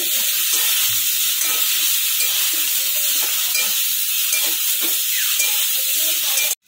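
Spices frying in oil for Bengali shukto, a loud continuous sizzle and hiss with periodic scraping strokes of a spatula stirring the pan, ending abruptly.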